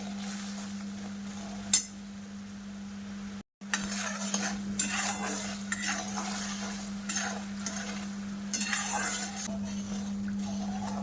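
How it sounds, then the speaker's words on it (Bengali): Sugar melting with cardamom pods in a pan while a spoon stirs, giving steady scraping and soft clinks over a constant electrical hum, with a short gap partway through. "চিনিটা একটু গলিয়ে নেবো ভালো করে"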